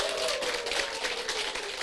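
A seated audience at a company business-plan presentation applauds, producing a dense, even wash of many clapping hands at moderate distance that holds steady throughout, with no voices breaking through.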